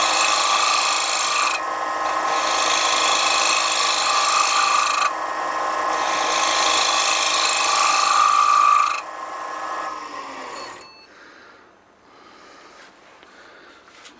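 A wood lathe gouge takes draw cuts across a spinning square bowl, giving a steady broadband scraping rasp in long passes with brief breaks, then fading to quiet shop ambience near the end.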